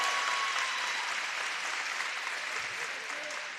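Wolves fans at a high school boys basketball game give a steady round of clapping in the gym, dense and even before easing slightly at the end.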